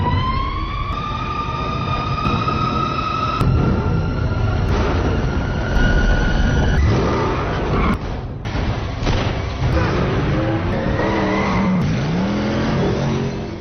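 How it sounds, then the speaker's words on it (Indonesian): Batmobile in a chase scene from a Batman film: a loud car engine roars and revs throughout, with rising and falling tones, tire squeals and skids, and crashing impacts layered in a dense action soundtrack. "Bruce mengejar Penguin menggunakan mobil Batman-nya"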